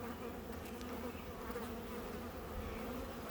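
Honeybees buzz around an open hive in a bee yard, a dense, steady, fairly quiet hum of many insects close by, with no voices.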